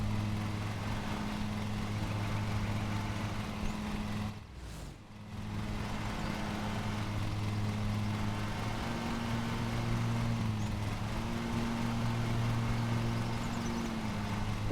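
A riding lawn mower engine in Lawn Mowing Simulator drones steadily, a low humming motor tone that holds constant for the whole stretch with only a brief dip partway through.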